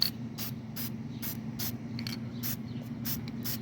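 Anti-corrosion spray applied to a car starter connection in short hissing bursts, about ten quick, evenly spaced puffs over a steady low mechanical hum, close by and without talking.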